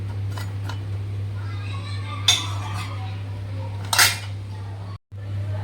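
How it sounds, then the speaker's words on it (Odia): Fried potatoes lifted one by one from the pan onto a plate, making two or three brief clinks and scrapes of utensil on metal over a steady low electrical hum. "କାଢ଼ିଦେବା ଗୋଟେ ପ୍ଲେଟ୍କୁ, ଗୋଟି ଗୋଟି କରି ସବୁ କାଢ଼ିଦେବା ଆଳୁ ଗୁଡ଼ିକ"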